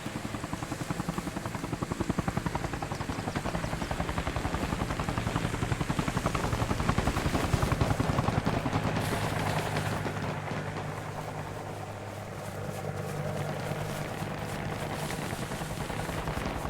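A video game helicopter thrums steadily throughout, its rotor chopping in a dense, continuous roar that swells slightly midway and stays loud, with no voices.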